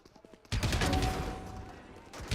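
Bulldog rifle gunfire in the video game Valorant during a Challengers South Asia esports match, a loud sustained burst of rapid shots that starts abruptly and runs for about two seconds.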